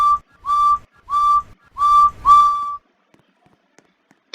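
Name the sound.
toy train engine whistle blowing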